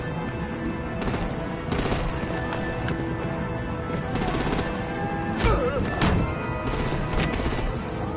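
Artillery gunfire in a Telltale Batman video game: bursts of rapid shots and booms over a constant loud battle din, with a sharper blast a little past the middle.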